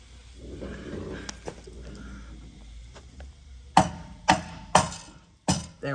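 A small hammer taps a metal exhaust bracket on a 1956 Ford Thunderbird during a muffler mock-up: four sharp, ringing metallic strikes spaced about half a second apart, following a stretch of quieter workshop noise.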